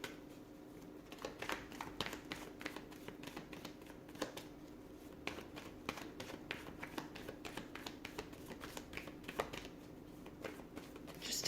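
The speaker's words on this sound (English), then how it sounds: "So I'm just going to pull a few more cards." Tarot cards being shuffled and pulled, a steady run of soft papery flicks and taps throughout, fairly quiet and close with no talking.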